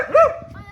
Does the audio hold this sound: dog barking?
yes